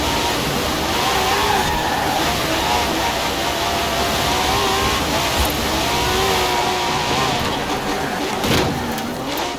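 A Pagani Zonda races in Forza Horizon 4 on a street course, its engine roaring loudly and continuously with rising and falling revs as it accelerates and shifts gears.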